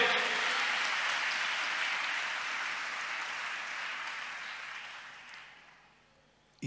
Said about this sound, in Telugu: కొట్టో చప్పట్లు ఇంకొకసారి